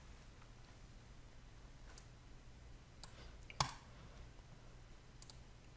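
A computer mouse clicking while setting up a DNS server in a Windows Server 2019 virtual lab, a few faint sparse clicks over a low steady hum, one sharper click standing out.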